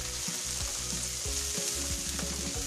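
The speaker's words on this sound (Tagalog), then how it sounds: "Lalagay na po natin ang ating sibuyas." Onions hit a hot pan for a Filipino ground pork loin dish and fry with a steady, close sizzle. Soft stirring scrapes and taps recur throughout.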